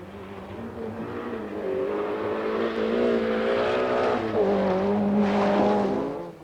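A Volkswagen Golf GTI rally car at the 1986 Lombard RAC Rally, engine droning steadily and rising in pitch as it accelerates, loud and close with rough gravel noise underneath.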